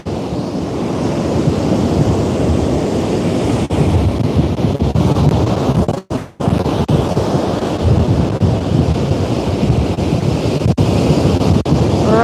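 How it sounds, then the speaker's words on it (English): Rough sea waves crash and roll continuously beside strong wind buffeting the microphone, a loud, steady roar with a brief dip near the middle. "Rough seas."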